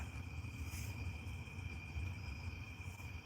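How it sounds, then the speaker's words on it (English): A steady high-pitched insect drone of cicadas hangs over a low rumbling background, continuous and fairly faint, with no talking. "Can you hear those cicadas?"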